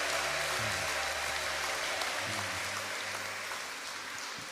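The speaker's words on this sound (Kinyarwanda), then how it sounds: "amashyi n'impundu, impundu zanyu" A church congregation in Gikondo claps continuously in a loud wash of applause, with a few faint, wavering voices rising underneath that may be ululation, slowly easing off toward the end.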